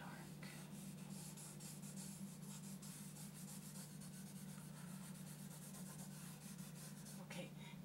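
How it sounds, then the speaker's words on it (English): A blending tool smooths charcoal across drawing paper in soft, repeated rubbing strokes, a faint, close, steady scratchy swish with brief gaps. "using the blender, and I'm smoothing out the charcoal and getting it nice and smooth like glass"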